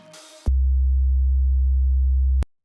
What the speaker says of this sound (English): So the first layer is a very basic sine wave.